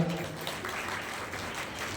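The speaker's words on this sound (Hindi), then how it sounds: "एक बार प्रधान जी के लिए एक बार और जोरदार तालियां" Applause rises from an audience at a village religious gathering after a call to cheer the village headman, a faint, thin patter of clapping heard from a distance.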